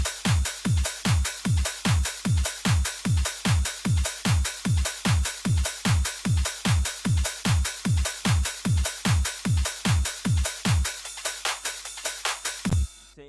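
Dance track heard alone with the kick drum pulled out for one bar: steady pulsing beats with a strong low thump on each hit, then the low end drops away near the end before a single hit returns.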